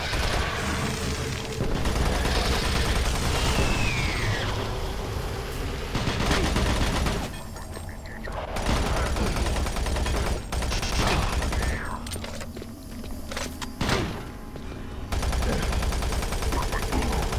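Rapid bursts of automatic gunfire and booming shots fill a fight in the sci-fi shooter Doom 3, loud and close, broken by short lulls, with faint game voices in the mix.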